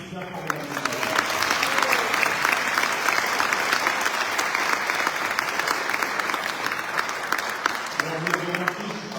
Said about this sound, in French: vous devez l'applaudir bien fort, mesdames et messieurs